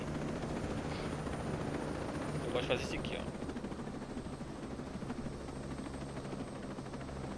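A helicopter in the Ghost Recon Breakpoint video game, its rotor and engine making a steady loud droning roar that runs the whole time, with someone speaking briefly over it.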